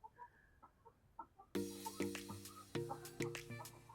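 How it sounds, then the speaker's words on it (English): Chickens cluck in short, soft, scattered calls, then a louder stretch of tonal clucks and squawks from birds close by, repeating irregularly. "But that's where the chickens live."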